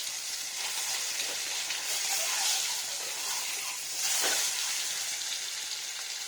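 A boiled egg fries in a hot pan with salt, giving a steady, fairly faint sizzling hiss throughout with slight swells in intensity.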